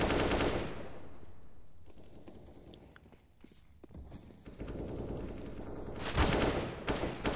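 Gunfire from an AK-47 and pistols in the video game CS:GO: a dense burst of shots at the start, sparse clicks and footsteps in a quieter middle, then more bursts and a loud shot near the end.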